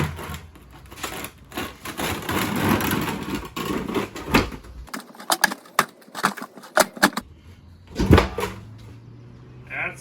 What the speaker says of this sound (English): I'm gonna put it on our 5-gallon bucket and push it off